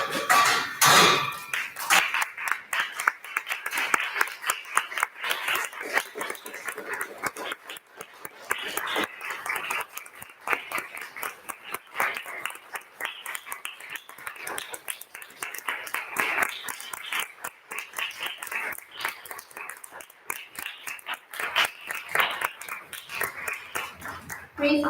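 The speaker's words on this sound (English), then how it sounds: "please stand up and give them a round of applause" A hall audience at a debate tournament stands and applauds the speakers, a dense, continuous patter of many hands clapping throughout at fairly even loudness, with no talk over it.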